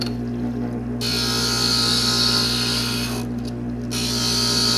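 Glass pieces for a Flower of Life piece ground on a glass grinder, a steady continuous mechanical whir with a constant motor hum and a brief dip in the grinding noise partway through, close and loud with no talking.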